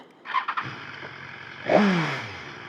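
A motorcycle engine turns over and catches at the start of a ride in North Ontario, coming after a few light clicks and settling into a steady, close idle.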